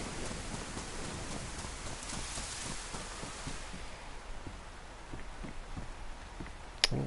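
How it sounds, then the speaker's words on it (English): Heavy storm rain pours steadily in the game DayZ, a dense continuous hiss with scattered drop ticks and a sharp brief crack near the end, with no voices. "we are in a Livonia type storm,"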